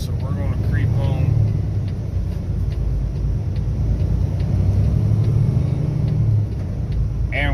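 A big truck creeps onto a cloverleaf ramp with a steady low engine rumble and a drone of passing traffic, and a person talks briefly at the start.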